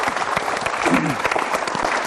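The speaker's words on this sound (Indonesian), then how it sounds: "Kita boleh kasih tepuk tangan juga." Steady applause from an audience fills the whole moment, dense and even, with no pauses.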